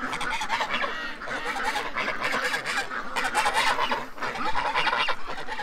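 Several geese honking loudly and repeatedly close by, overlapping calls in irregular bursts, with no talking.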